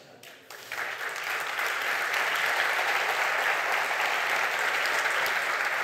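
A conference audience claps after a joke about a Mac Catalyst app, starting with a few scattered claps that quickly swell into steady, sustained applause filling the room.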